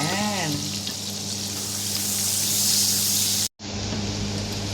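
Garlic and onion frying in butter in a pan while cooking sotanghon, with a steady close sizzle and hiss throughout and a brief dropout near the end.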